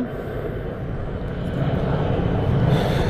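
A fixed-wing airplane passes overhead near Sydney Airport, its low broadband engine roar swelling steadily and loud across the whole stretch, with no talking.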